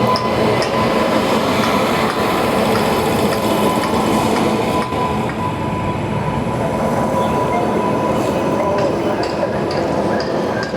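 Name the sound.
Amritsar Nanded Sachkhand Express train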